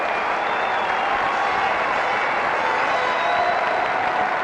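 A stadium crowd applauds steadily at a cricket Test match between New Zealand and England in Auckland, greeting a batsman's fast fifty with a dense, continuous wash of clapping and a few faint cheers, sustained without a break.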